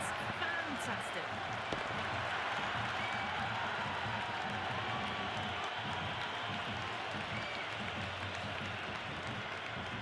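Cricket 26 video game crowd at an IPL match between KKR and RCB in Kolkata, a broad, steady roar of applause and cheering held at even loudness throughout.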